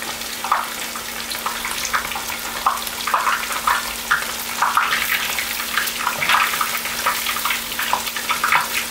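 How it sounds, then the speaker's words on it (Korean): Battered tangsuyuk pork frying in hot oil, a dense continuous crackle and sizzle with bursts of popping, steady and fairly close with no talk, under a faint constant electrical hum. "튀기는 소리 한번 듣고 가시죠."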